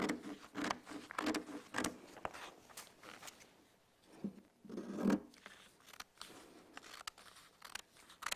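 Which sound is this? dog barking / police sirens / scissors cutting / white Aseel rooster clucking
scissors cutting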